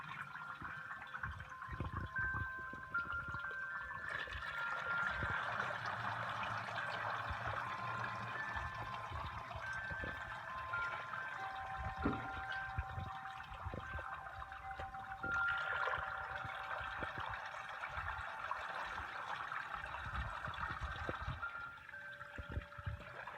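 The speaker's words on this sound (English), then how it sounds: "we're going to pour it through a filter" Hot melted beeswax poured through a filter, a steady liquid trickle and stream with faint ringing tones, continuous and moderately close, no talk.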